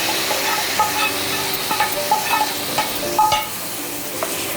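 Tomato curry set back on the stove sizzles steadily with a continuous hiss, a few light clinks of stirring over the top.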